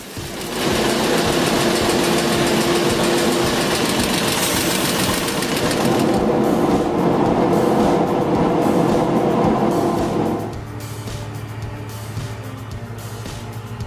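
A GSN 240 chainsaw mill cuts through wood, its engine roaring loud and close under heavy load before dropping abruptly to a lower idle-like drone near the end.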